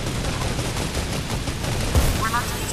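Rapid gunfire from guns in an explosives-only video game match, a dense continuous burst of shots running throughout, loud and close, with a louder crack near the end.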